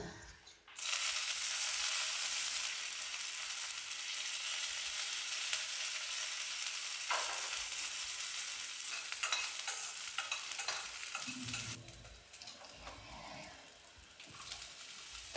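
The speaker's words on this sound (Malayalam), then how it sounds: "അരിഞ്ഞ് വെച്ചിട്ടുള്ള എല്ലാ സാധനങ്ങളും ഇട്ടിട്ട് വഴറ്റുകയാണ്." Chopped vegetables sauté in a pan of hot coconut oil with popped mustard seeds and dried red chillies, a steady close sizzle broken by scraping stirs, fading toward the end, with no talking.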